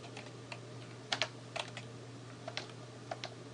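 Keystrokes on a computer keyboard while a terminal command is entered, scattered clicks and small bursts over a steady low hum, fairly quiet and close.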